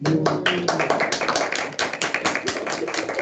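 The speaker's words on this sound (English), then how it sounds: "Round of applause." A small group claps for students at a school showcase assembly, with distinct, closely spaced hand claps in an uneven rhythm, loud and near, forming brief sustained applause.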